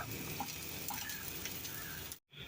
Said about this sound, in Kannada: ಸೊ ಇನ್ನೊಂದು ಆಮ್ಲೆಟ್ ರೆಡಿ ಆಗ್ತಿದೆ ಡಬಲ್ ಮೊಟ್ಟೆ